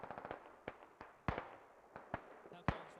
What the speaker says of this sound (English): I just heard a hell cannon